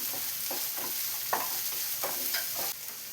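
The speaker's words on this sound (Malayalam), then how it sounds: "ഈ സവാളയെല്ലാം ജസ്റ്റ് ഒന്ന് ട്രാൻസ്പെറൻ്റായി വരുന്നവരെ ഒന്ന് വഴച്ചെടുക്കാം." Onion, ginger and green chillies sauté in a pan for a cabbage and egg thoran, giving a steady close sizzle broken by several short spatula scrapes and stirs at an uneven rhythm, with no talking.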